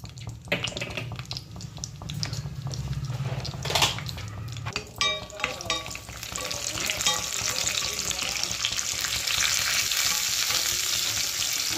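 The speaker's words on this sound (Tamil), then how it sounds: "கடாய் வச்சிருக்கேங்க, அதுல நெய் ஊத்துறேன்." Ghee sizzles and crackles steadily in a kadai, with clinks of a utensil against metal early on, continuous and fairly close.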